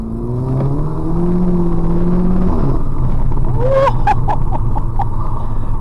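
A tuned 250 bhp Volkswagen Polo GTI's engine revs climb in pitch as it accelerates hard, then a series of sharp pops and crackles near the end, loud and close.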